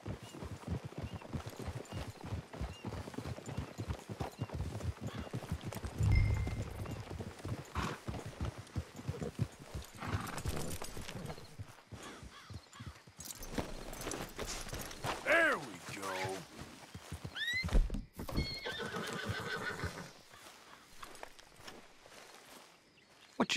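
Horse hooves clip-clop in an uneven walking rhythm alongside creaking and mechanical clatter, with brief voices and a distant whinny, in the video game Red Dead Redemption 2.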